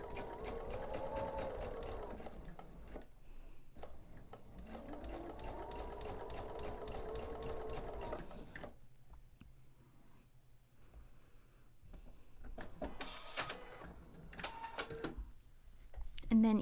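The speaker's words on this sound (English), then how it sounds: "So then I'm just going to sew on that line." A home sewing machine runs in two long steady bursts, stitching binding onto a mini quilt, its fast even hum close and clear, followed by a quieter stretch with someone talking.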